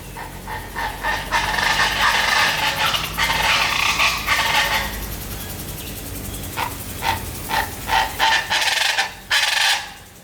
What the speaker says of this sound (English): Those noises, that noise is birds.